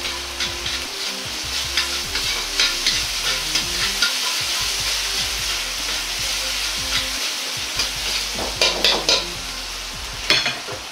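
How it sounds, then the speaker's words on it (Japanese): Doubanjiang, garlic and ginger stir-fried in oil over low heat for twice-cooked pork with pork fillet, a close, constant sizzle with spatula scrapes and small knocks against the pan, no voices. "板醤を油で溶くようにして炒めたら、ニンニク生姜を入れ炒めます。"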